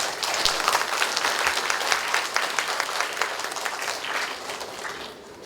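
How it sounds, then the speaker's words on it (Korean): Applause at an apartment reconstruction briefing for owners of Yeouido's Sujeong Apartment, welcoming the committee chair: brisk, dense clapping from a nearby audience, steady for several seconds before thinning out at the end. "박수로 좀 맞이겠습니다."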